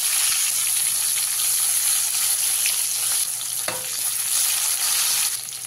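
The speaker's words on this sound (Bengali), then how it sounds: "বাকি মাছগুলোকে আমি ভালো করে ভেজে নেব।" Tilapia pieces frying in hot oil in a home kitchen make a loud, continuous sizzle close by, with bubbling crackle and a brief scrape of stirring partway through.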